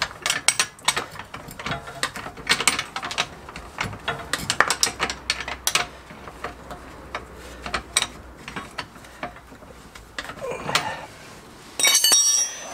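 A ratchet wrench with an 18 mm socket works on the rear axle of a Peugeot 407, 508 or 607 or a Citroën C5, giving bursts of sharp metallic clicking with clinks of tools in between, close and fairly loud.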